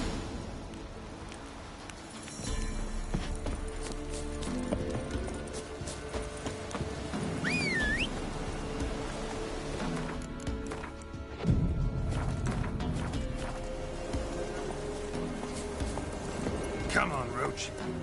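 Geralt's horse Roach gallops in The Witcher 3, a steady clip-clop of hooves running through the whole stretch beneath game music, with a brief sharper thud partway through and a voice speaking over it.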